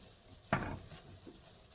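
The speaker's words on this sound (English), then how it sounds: "You want to fry that in pretty good." Flour fries in a pan like a roux and gives a soft sizzle. A sharp scrape of stirring cuts in partway through, and the sizzle then eases back to a quiet hiss.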